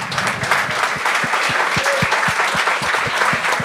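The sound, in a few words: audience applause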